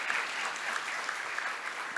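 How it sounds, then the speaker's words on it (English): Audience at the EU Moldova Investment Forum applauds after a panel discussion, a steady dense wash of clapping from a large hall that holds evenly for the whole stretch. "I would like to invite you to express our gratitude with a round of applause for this extremely informative panel."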